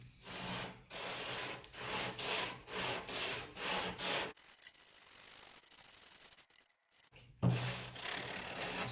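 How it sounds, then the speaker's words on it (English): A guitar body of wood is worked with 60 grit sandpaper in a quick run of rhythmic, scratchy back-and-forth strokes, then a near-silent pause before a final rough stroke, close and fairly quiet, with no talking. "I'm just gonna do a little bit more with this 60 grit here."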